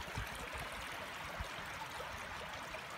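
A small stream flowing along a hill walk in winter, a soft, continuous burble and trickle, faint and steady, with no voices.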